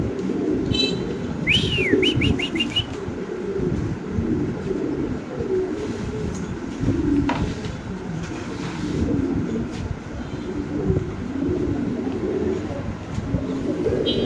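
Pigeons at a breeder's sale, with low, rhythmic cooing running throughout amid close handling noise and a few short, sharp chirping calls near the start.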